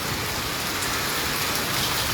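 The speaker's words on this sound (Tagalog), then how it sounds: "ayan guys, umuulan" Steady rain falling, a dense, even hiss of drops that stays constant and fairly close throughout, with no voices.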